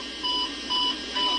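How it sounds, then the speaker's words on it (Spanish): Aircraft cockpit terrain warning alarm sounding as three evenly spaced electronic tones over a steady background hum. "Alarma de terreno."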